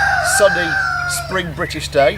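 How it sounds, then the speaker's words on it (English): Pet chickens cluck and chatter steadily in the background of a home garden in Worcestershire on a sunny spring day, their calls running beneath close speech. "All the noise you can hear in the background are our pet chickens conversing and enjoying the sun as well"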